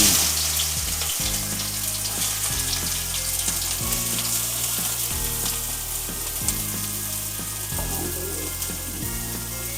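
Chopped onions sizzle loudly and steadily in hot oil for egg bhurji, a dense continuous frying hiss with a low tonal background pattern underneath.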